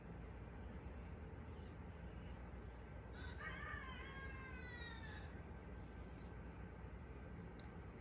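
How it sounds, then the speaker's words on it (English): Neighbours' turkeys squawk in the background: one faint, drawn-out call rises midway and fades, distant under a steady wash of outdoor noise. "I don't know if y'all can hear Rose in the back squawking, and Mama Turkey, the neighbors"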